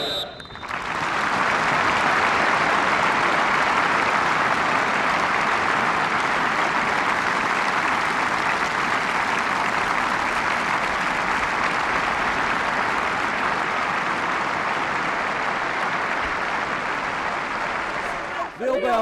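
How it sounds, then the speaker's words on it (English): A football crowd at Gillingham's stadium gives a minute's applause before a match against MK Dons, a loud, continuous roar of clapping that holds evenly for the whole stretch and cuts off at the end. "a minute's applause was held in his honour before the MK Dons game"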